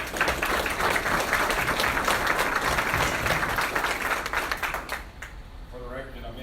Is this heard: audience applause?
yes